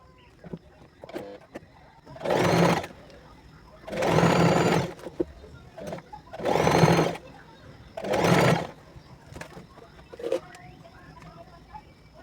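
A sewing machine stitches lace onto a puff sleeve blouse in four loud whirring bursts of about a second each, separated by quiet pauses with small handling clicks.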